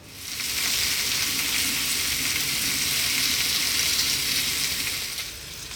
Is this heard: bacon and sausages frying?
yes